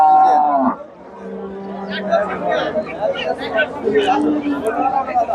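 A Friesian cow moos briefly at the start, then a busy crowd chatters around a cattle market, voices overlapping throughout.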